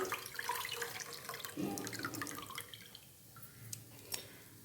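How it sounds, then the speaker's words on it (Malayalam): Squeezed tamarind water poured into a pot of kollu rasam, a faint trickling splash that runs for a couple of seconds, then thins into a few scattered drips and small pours, quiet and near. "ആ പുളി പിഴിഞ്ഞത് ഒഴിച്ച്"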